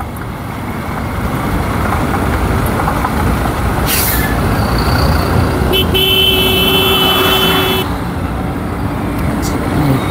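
Dense road traffic jam heard from a motorbike on a trip to Mumbai, with a constant engine roar, several sharp horn toots and a sustained honk rising out of the congestion, and a voice talking over it.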